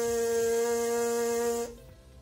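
A trumpet or cornet player buzzes their lips through a set embouchure, with no mouthpiece, making a steady pitched buzz. It holds for about a second and a half, then cuts off abruptly.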